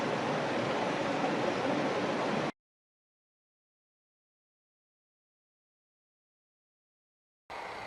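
A creek flows in a steady, full broadband rush close by, cutting off abruptly to silence for several seconds before resuming.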